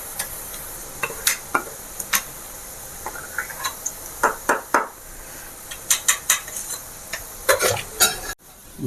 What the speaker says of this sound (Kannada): ಬೂಂದಿ ಫ್ರೈ ಆಗ್ತಾ ಇದೆ.